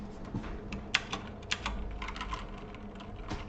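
Computer keyboard typing at a steady pace while Python code is being written, with scattered sharper key clicks standing out over a low background hum.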